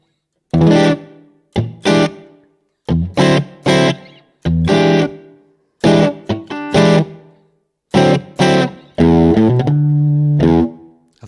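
An electric guitar plays through a Waves amp simulator with a distorted tone, picking short choppy chords separated by silences and ending on a longer sustained ringing chord.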